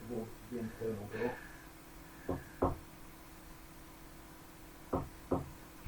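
Knocks on an internal door, a handful of faint hollow raps in pairs after a brief stretch of quiet talking, recorded in a quiet room with a low background hum.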